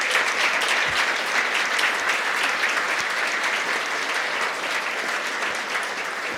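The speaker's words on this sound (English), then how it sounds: "a huge thanks and round of applause for our committee volunteers" Steady applause from a gala audience thanking committee volunteers of a children's surgery charity, a dense continuous wash of clapping that stays even and fairly loud throughout, with no talking over it.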